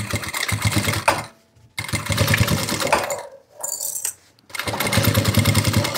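A sewing machine stitching two fabric pieces laid face to face, running close in three fast rattling bursts of stitching separated by brief silent pauses.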